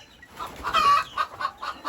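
Chickens, mostly black hens, cluck in a quick series of short, close-up clucks at feeding time.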